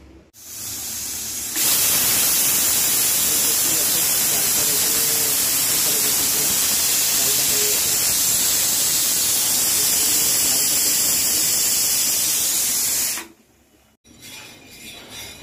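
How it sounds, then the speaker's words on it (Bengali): A loud, broad sizzling hiss of cumin seeds in hot mustard oil in a wok starts abruptly, holds steady for several seconds close by, then cuts off. "এখন কড়াইতে সর্ষের তেল দিয়েছি কিছুটা, ফোড়নে সাদা জিরে দিয়ে দিলাম"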